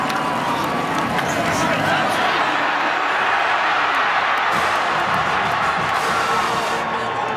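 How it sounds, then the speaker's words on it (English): A packed football stadium crowd at a Mississippi State versus Arkansas game roars continuously in a dense, loud wash of cheering and shouting that swells slightly midway, with a commentator talking over it. "Listen to this crowd come alive."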